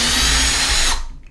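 A cordless power drill whirs steadily at close range for about a second, backing a screw out of a wall-mounted toilet paper holder before spinning down and stopping.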